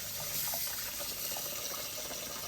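Fresh tap water runs in a steady, continuous gush for rinsing homemade cheese, close and even throughout with no talking.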